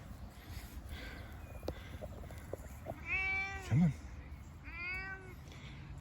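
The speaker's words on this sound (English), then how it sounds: "She's our indoor-outdoor cat." An indoor-outdoor cat gives two clear meows, close and moderately loud, amid outdoor ambience, with a person calling softly before them.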